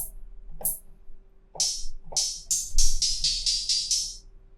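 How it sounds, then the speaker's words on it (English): Open hi-hat hits ring out with bright, hissing decays, first sparse, then a quick steady run of repeated strikes, alone and close. "I just add two more sound, which was an open hat"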